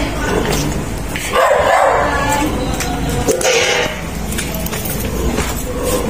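A dog barks and yips several times in short bursts near a bridge, close and fairly loud, with a voice talking briefly over the outdoor background.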